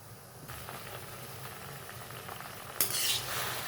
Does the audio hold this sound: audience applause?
no